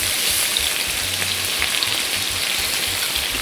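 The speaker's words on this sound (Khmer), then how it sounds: "ឥឡូវនេះយើងចាប់ផ្ដើមដាក់សាច់យើងចូលហើយ" Beef steak sizzles steadily in a hot pan as it is laid in, a dense, even crackle like light rain that stays constant throughout, close and fairly loud with no talking.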